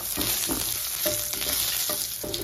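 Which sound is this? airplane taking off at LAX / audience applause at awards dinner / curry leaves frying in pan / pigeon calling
curry leaves frying in pan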